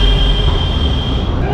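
A metro train rolls along in India, a loud steady rumble with a high whining tone from wheels and motors, heard from inside the car throughout.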